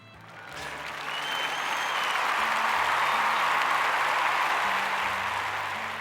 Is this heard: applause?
yes